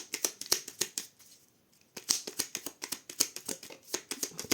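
A tarot deck being cut and handled, with a fast run of crisp papery riffles and slaps, a brief quiet pause near the middle, then more rapid card clatter, close and fairly soft.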